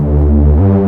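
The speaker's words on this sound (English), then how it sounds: "if you guys don't know what a Reese bass sounds like, it basically sounds like this" A deep Reese bass synth holds a thick, buzzing sustained note for about a second, then glides up slightly to a new pitch, loud and alone with no talk.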